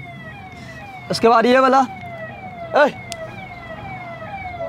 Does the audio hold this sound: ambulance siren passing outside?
yes